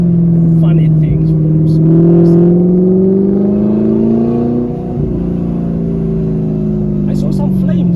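Straight-piped Audi R8 engine revving loud and close, a low droning note that climbs steadily then dips and swells again, with a brief raspy burst near the start and talk in the background.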